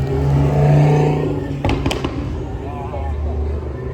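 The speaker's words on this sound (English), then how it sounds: "what I'm hoping to catch today is a bunch of nice vehicles crossing over" Cars cruising along Las Olas Boulevard at night, an engine rumble swelling and fading as a vehicle passes nearby, followed by a brief clatter and lighter traffic noise.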